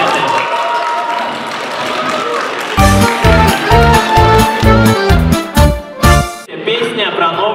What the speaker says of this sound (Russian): В общем, еще раз ваши аплодисменты.